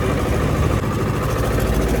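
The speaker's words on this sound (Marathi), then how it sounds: "खूप दिवसानंतर ट्रॅक्टर चालवितोय" A tractor engine running steadily with a low, throbbing idle rumble, loud and close, with no talk.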